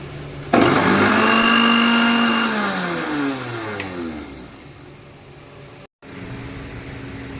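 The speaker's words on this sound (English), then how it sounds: "Here I have added 2 tablespoons of oats in my mixture grinder, and I am just going to grind it into a powder." A mixer grinder runs loud and close, grinding two tablespoons of oats into powder. The motor whirs up in pitch and holds a steady drone for several seconds, then cuts off abruptly.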